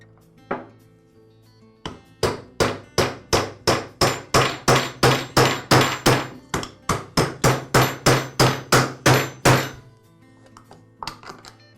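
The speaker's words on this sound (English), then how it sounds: "use a socket just a little bigger than the shaft to tap it in place" A socket taps a retaining washer onto the shaft of a Ryobi string trimmer, giving a steady run of about twenty sharp metallic hammer strikes, close and loud, after one lone tap, with a few more at the end.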